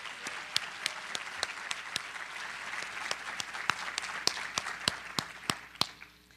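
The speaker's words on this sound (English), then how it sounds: "Can we please give Tara another round of applause?" A crowd gives a steady round of applause at a high school senior recognition ceremony, sharp individual claps standing out over the wash of clapping, fairly distant and with no talk.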